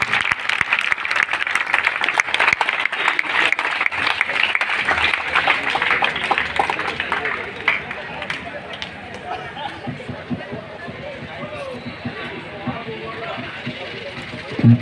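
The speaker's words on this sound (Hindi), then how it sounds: "जोरदार तालियों के साथ दीप्य ज्वलन के कार्यक्रम का स्वागत कीजिए" A crowd claps loudly and continuously to welcome the lamp lighting ceremony at a district athletics championship in Minz Stadium, Gopalganj, Bihar, the clapping dense at first and then thinning into scattered claps amid background chatter.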